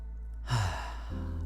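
A single audible breath, taken in during a slow tai chi and yoga exercise: a soft, close sigh-like inhale that swells and fades within a second over a quiet, steady low hum.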